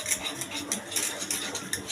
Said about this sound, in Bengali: এখন আমি এতে দিয়ে দেবো ডিম, দিয়ে ভালো করে কাটিয়ে দেবো